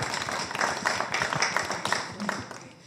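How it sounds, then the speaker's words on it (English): An audience gives a brief, dense round of clapping at a talk about racism in football, with a voice speaking over the applause. "I think that deserves a round of applause"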